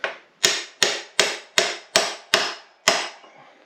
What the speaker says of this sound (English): now that it's bent over, I can grab the chisel